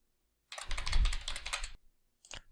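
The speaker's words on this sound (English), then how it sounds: "you can simply type in the name here" Typing on a computer keyboard while entering a subcategory name in asset-management software: a fast, dense run of close key clicks for about a second, then a short burst of a few more keystrokes after a pause.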